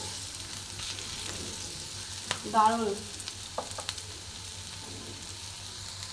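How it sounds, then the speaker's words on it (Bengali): Onions frying in a pan, a soft steady sizzle running throughout with a brief louder stir or toss partway, and a voice saying one word. "তো পেঁয়াজটা আর একটু ভাজা হোক"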